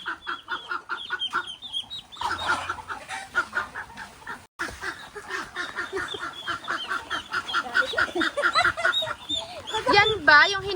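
Ducks being chased in a rural yard, with repeated quacking and fowl calls mixed among several people talking, the calls growing louder and more frantic toward the end.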